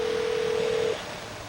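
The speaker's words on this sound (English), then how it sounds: "We're listening to the phone ring right now." A telephone ring tone heard over a line: a single steady electronic tone lasting about a second, then cutting off into quiet line hiss.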